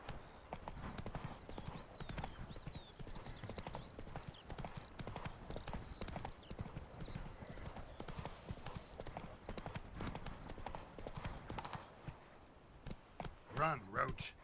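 Hooves of a galloping horse in The Witcher 3 video game clop in a fast, steady rhythm with jangling tack, under frequent talking and a brief whinny near the end.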